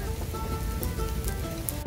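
Steady rain patters on a surface outdoors during a thunderstorm, a soft continuous hiss with occasional distinct drops.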